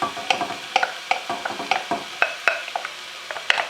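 Bacon lardons and other ingredients frying in a pan, with a steady soft sizzle broken by a rhythmic series of sharp scraping and stirring clicks from a utensil, close up.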